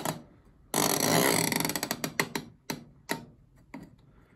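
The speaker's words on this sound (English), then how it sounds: "I don't know if you can hear that. The timer is ticking." A mechanical timer on a rudimentary condenser tumble dryer ticks close by, first a dense burst of rapid clicking, then a few separate louder ticks spaced apart, with no talking.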